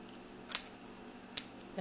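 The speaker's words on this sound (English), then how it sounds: "pair of scissors" Cheap scissors from a first aid kit are handled, giving two quick, crisp metallic snips or clicks about a second apart against near-silence.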